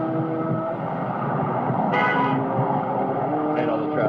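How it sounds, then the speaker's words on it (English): Street traffic outside a walled compound beside a mosque, a steady rumble of passing vehicles with a couple of brief horn toots, with voices talking over it. "And all the traffic."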